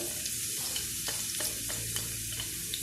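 Onion and garlic frying in hot oil for paella, with a constant close sizzle broken by regular scraping taps of stirring.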